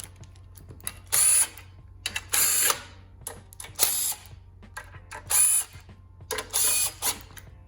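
Ratchet wrench snugging up bolts on the crank area of an aluminum 5.3 engine, heard as five or six bursts of rapid clicking, each lasting about half a second, close and clear over a quiet room.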